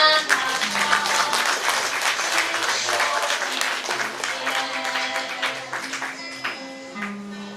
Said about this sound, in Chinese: 我们是不是再给这些毕业生掌声鼓励呢